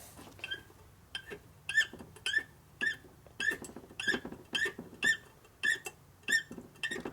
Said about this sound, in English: squeaky threads are not good threads